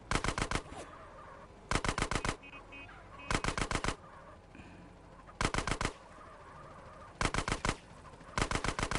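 Repeated loud bursts of automatic gunfire from Grand Theft Auto San Andreas, several rapid volleys separated by short pauses, with quieter game ambience between them.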